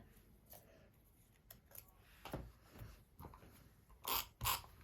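A few faint, scattered snips and rustles of scissors cutting paper for a model truck layout, ending with two sharper crisp cuts near the close; no talking.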